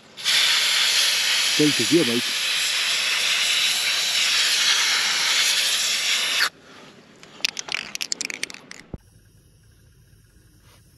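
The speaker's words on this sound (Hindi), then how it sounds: "तो एक बार चेन लूप कर देते हैं" A dry motorcycle chain, about to head off-road from Sarchu toward Leh, gets a long, loud, close hiss of spray lubricant lasting roughly six seconds. Faint metallic clinks and a short spoken line follow.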